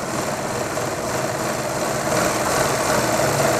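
A sewing machine runs steadily while stitching a fabric collar, producing a continuous close mechanical whir with a slight rise in intensity partway through.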